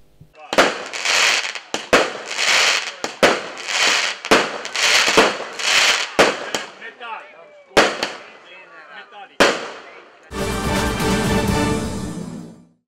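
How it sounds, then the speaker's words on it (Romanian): Fireworks burst over a village sky near Pecica, a loud run of sharp booms and crackling volleys at an uneven rhythm, closing with a long dense crackle. "un frumos foc de artificii a luminat cerul satului aparținător orașului Pecica."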